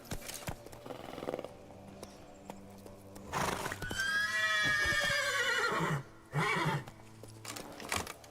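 Roach, a horse in The Witcher 3, gives a loud drawn-out whinny in the middle, with clopping hooves and rustling movement before and after it. No one speaks.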